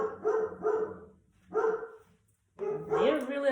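Several dogs barking outdoors in a few short bursts, heard faintly at a distance behind indoor room sound during a long layered haircut, with pauses between volleys.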